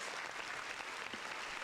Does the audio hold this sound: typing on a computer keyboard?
no